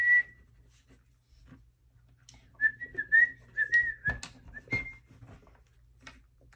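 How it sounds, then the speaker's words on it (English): A person whistles a wavering tune in short phrases, with clicks and rustles of crayons on paper during a drawing session, fairly close and moderately loud, with no talking. "No whistling."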